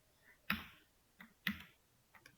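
A keyboard shortcut, Ctrl Shift F, is pressed: a few sharp, close key clicks spaced about a second apart in a quiet room.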